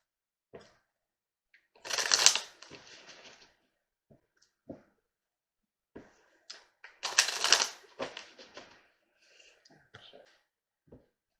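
Law of Attraction oracle cards are shuffled in two loud, crisp riffling bursts, each followed by scattered soft taps and clicks as the deck is squared, with quiet pauses in between.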